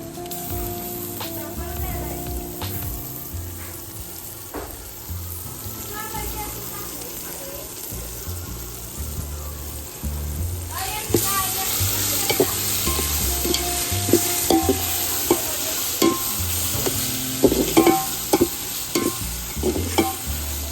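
Roasted onion paste, the Aagri Koli kala vatan, hits a sizzling pan over a village wood-fired chulha and is stirred, with a steady hiss and frying crackle that grows louder and busier halfway through, spoon scrapes cutting through.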